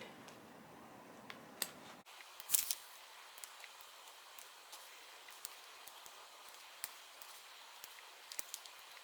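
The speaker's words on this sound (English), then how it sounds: "trim those threads right where it meets the design" Scissors trim loose embroidery threads where the stitching meets the design, giving a few soft, close snips and clicks in a quiet room, one sharper cut standing out.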